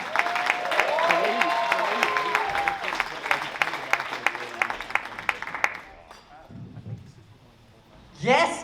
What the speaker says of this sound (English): Give a round of applause for Aayush Aiyanna.